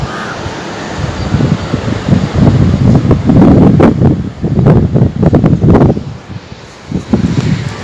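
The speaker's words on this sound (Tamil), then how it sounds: "பயங்கரமாக காற்றடிக்குது" Strong wind buffets the microphone near the beach during a rough sea, with loud roaring gusts, rustling, and crows cawing faintly through the noise.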